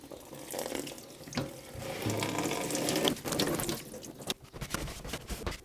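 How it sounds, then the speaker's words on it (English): Water runs from a tap over a turntable slip mat being washed in a sink, a steady close splashing with shifting, uneven surges and light clattering as the mat is handled. "Just going to wash the slip mat before I do the test."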